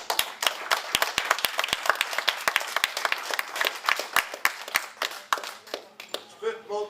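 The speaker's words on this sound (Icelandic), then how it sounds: "Gefum öllum keppendum gott klapp." Scattered, sparse clapping from a small audience at an equipped powerlifting cup meet, distinct individual claps in an uneven rhythm that thins out near the end.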